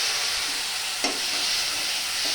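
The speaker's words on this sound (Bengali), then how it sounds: "অল্প একটু জল দিয়ে আমি এটাকে একটু মশলাটাকে একটু কাইয়ে নেবো" Ginger masala with cumin, coriander, chilli and turmeric powders fries in a pan with a splash of water, giving a loud, steady hiss with one brief scrape of a spoon.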